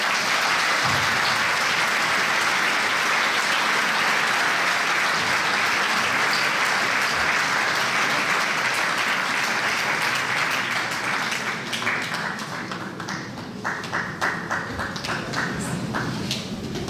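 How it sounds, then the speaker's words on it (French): Hall audience at a mayor's New Year address applauding people called onto the stage, a long, loud, dense ovation that eases slightly and breaks into more distinct individual claps toward the end. "Les applaudir."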